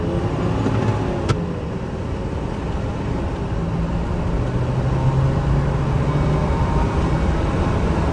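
A 2012 Ford 6.7 truck engine held at half throttle, producing a loud, steady, continuous roar with a faint sharp click early on and no voices.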